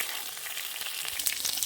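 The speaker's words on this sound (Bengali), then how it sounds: "কেটে রাখা বেগুন। এটাকে লাল লাল করে ভাজবো।" Sliced eggplant fries in hot oil for a Bengali begun ilish bhapa, a close, bright crackling sizzle with small popping bursts and no talking.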